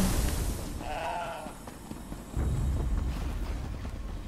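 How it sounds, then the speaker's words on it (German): A sheep in the video game The Elder Scrolls Online lets out a single short, wavering bleat over a low rumbling game ambience, which swells a moment later. "Braves Schäfchen."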